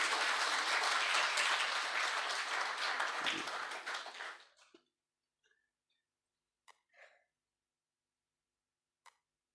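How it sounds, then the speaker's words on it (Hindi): Loud, dense audience applause at an Urdu mushaira and kavi sammelan poetry evening that holds for about four seconds, then cuts off into near silence broken by a few faint isolated claps and small noises. "तो आप एक बार इनके लिए जोरदार तालियां बजा सकते हैं।"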